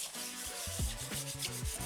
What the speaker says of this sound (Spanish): pero antes pasamos la lija al 400